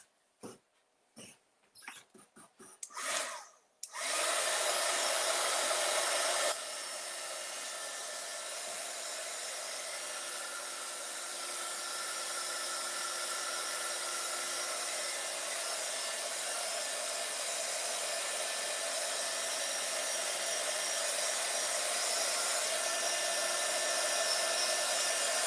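A hair dryer switches on after a few brief taps and rustles and runs with a loud steady whoosh, drying a loose watercolour painting of daisies. It drops slightly in level after a few seconds, then holds.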